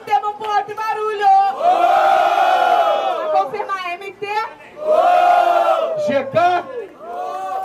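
Crowd at a freestyle rap battle semifinal roaring and shouting in two big surges, loud and close, with a voice calling out over the noise between them.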